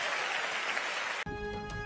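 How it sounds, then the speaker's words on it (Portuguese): Congregation applause at a church service, a dense steady wash of clapping that fills the first second and a quarter before cutting off abruptly into a different, tonal sound. "Palmas que louvam ao Senhor."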